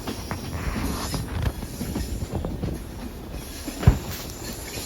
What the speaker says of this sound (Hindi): दूसरी साइड से भी ट्रेन मोड़ काट रही है